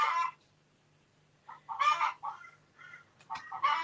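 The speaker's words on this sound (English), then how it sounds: "That's one of the black chickens." Black chickens clucking nearby in several separate bursts, short bright calls grouped with pauses of near silence between them.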